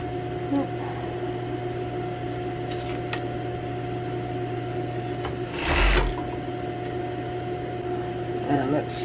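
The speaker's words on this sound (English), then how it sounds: "So we need to sew those together." Sewing machine stitching cape pieces together, a steady mechanical hum with a constant whir running throughout, nearby and moderately loud, with a brief louder burst partway through.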